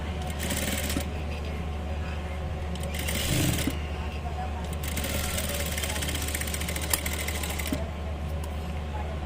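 A tailoring sewing machine stitches a folded seam on a gathered petticoat, running in a continuous close mechanical whir that starts and stops in bursts, with someone talking over it.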